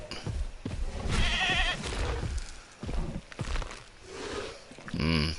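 Goat bleating in the dinosaur park game Jurassic World Evolution 2, several wavering bleats in bursts over a few seconds, loud and close amid game thuds and background noise.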